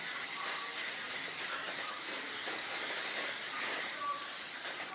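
A Percy & Reed hairspray aerosol sprays in one long, steady, loud hiss that lasts throughout and fades slightly at the end.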